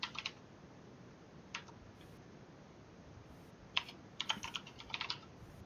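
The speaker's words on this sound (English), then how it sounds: "I'm typing out Scott's spells to give him." Rapid bursts of clicky typing on a computer keyboard, coming in short clusters of keystrokes separated by pauses, close and fairly quiet against a faint background hiss.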